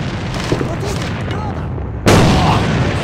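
A grenade detonates in the shooter game AVA, a sudden loud close boom at the end that holds into a dense roar, after a stretch of muffled gunfire and game noise.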